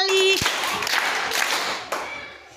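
A few hand claps ring out during a children's classroom literacy counting game, close and sharp over a noisy room with voices talking in the background.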